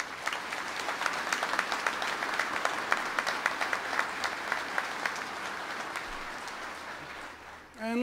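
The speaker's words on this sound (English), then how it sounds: "Let's give them a round of applause." A crowd at a State Police academy graduation breaks into steady applause, continuous clapping with a few sharper individual claps standing out, holding level before a brief dip at the end.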